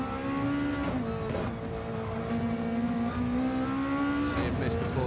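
A Lexus RCF GT500 race car at Spa in Gran Turismo 7, its engine droning loud and close with a sustained tone that dips and climbs through gear changes.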